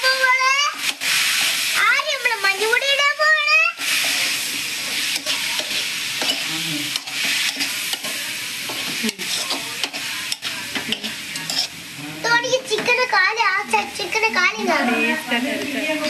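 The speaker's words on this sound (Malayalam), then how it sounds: "ജസ്റ്റ് ഒന്ന് ഇളക്കി കൊടുക്കുക" Scraping and sizzling of chicken curry with roasted coconut being stirred in a hot pan, with someone talking over it at the start and end.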